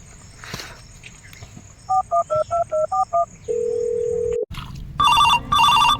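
Dialing a call on a telephone: a quick run of seven touch-tone beeps, then a long steady tone, followed by two loud bursts of an electronic telephone ring, close and with no talk.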